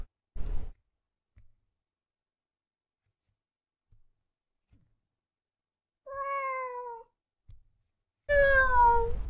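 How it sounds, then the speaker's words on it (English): A cat meows in the horror puzzle game Ib, two clear drawn-out meows separated by near silence, the second louder and closer, with scattered soft clicks and thumps between. "I can meow too, Mr. Kitty."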